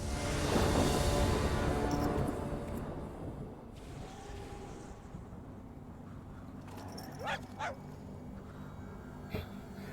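A pet creature in MTG Arena barks when clicked, a few short dog-like yips and whimpers heard faintly late on, after a louder swell of game sound effects at the start.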